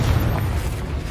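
Heavy, close boom of a Confringo blasting spell exploding in the Hogwarts Legacy video game, a brief dense rumble filling the moment.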